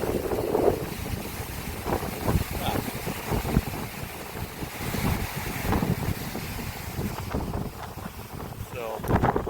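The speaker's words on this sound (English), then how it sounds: "like I said, it's windy today" Gusty wind buffets the microphone outdoors at Hatta Dam and Leem Lake in the UAE, a steady rushing roar with sharper gusts near the water, with soft, indistinct voice sounds in places.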